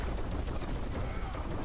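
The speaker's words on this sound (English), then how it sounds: "Explosions, explosions." Dense, continuous bursts of game explosions and gunfire-like blasts from Diablo IV combat with a Rogue on a hillside, loud and rapid throughout with no clear gaps.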